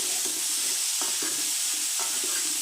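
Chopped garlic and onion fry in hot oil for tomato chutney, a steady bright sizzle broken by a spoon scraping and stirring the pan roughly once a second, close and with no talking.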